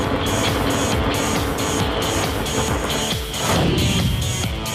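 A beach roadster races across sand and pushes into the water, its engine droning steadily and loudly with a revving, rising surge near the end.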